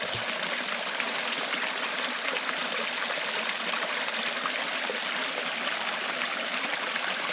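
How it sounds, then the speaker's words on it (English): A small spring-fed tributary of Caney Creek in the Arkansas backcountry flows in a steady, even rush of water with no pauses, up close and alone, with no voices. "Like a little spring tributary to the Caney Creek out there."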